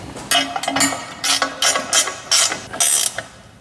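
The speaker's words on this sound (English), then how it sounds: "We'll just screw this into the trans" A ratchet wrench drives a bolt into a VRP 722.9 transmission pan for a Mercedes M156 E63. It makes loud, close bursts of rapid clicking in several separate strokes with short pauses between them.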